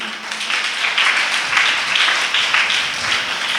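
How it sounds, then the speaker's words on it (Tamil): Steady, fairly loud applause from a church congregation during a Sunday service, an even wash of clapping that continues for a few seconds without a break. "எல்லாரும் கைத்தட்டு கொடுங்க பார்க்கலாம்"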